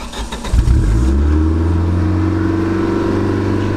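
A 1987 Dodge Charger GLHS engine idling high and steady after a brief revving start, a loud close rumble with no talk over it.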